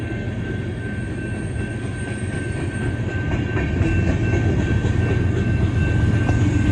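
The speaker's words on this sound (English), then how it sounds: "Oh, that might be a Heritage 2 Gevo right there." A Heritage 2 GEVO freight locomotive passes with a loud, steady rumbling roar of engine and rolling wheels that grows slightly louder, with a faint high whine and no voices.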